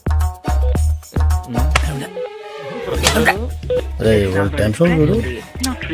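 A short run of electronic telephone dialing tones beeps in quick succession, followed by a voice speaking close up.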